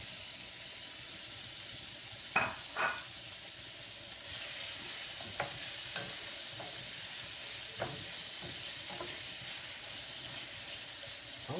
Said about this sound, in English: And I got the onion over here, and we saute the onion.